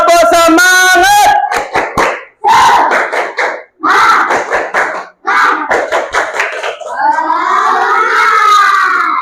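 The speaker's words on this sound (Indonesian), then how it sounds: "Nyoba tepuk semangat." Classroom of students doing a rhythmic spirit clap, tepuk semangat, with bursts of quick clapping patterns alternating with loud group chanting and shouting, ending in a sustained cheer.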